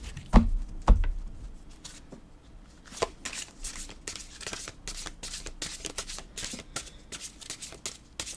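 Large tarot cards are shuffled by hand in a quiet room, a few sharp taps at the start followed by a run of soft, repeated riffling slaps, close and fairly faint.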